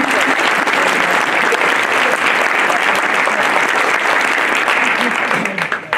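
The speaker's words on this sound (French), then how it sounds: "je vous demande de l'applaudir très fort" Sustained, dense audience applause at a New Year's greetings ceremony in Isola, loud and steady throughout before tapering off at the end.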